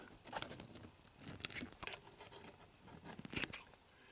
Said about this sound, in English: I'm going to pull everything back, and I'm going to trim my material